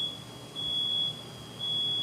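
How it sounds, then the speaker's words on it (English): A fire alarm sounds in an indoor setting, a shrill high electronic tone pulsing in two long beeps with short gaps between them, steady and fairly close, with no talking over it. "as you can hear, there's a fire alarm going off."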